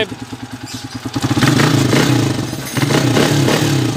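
An overhauled motorcycle engine revs up loudly from a choppy idle, holding a rough, throbbing roar with a second surge near the end.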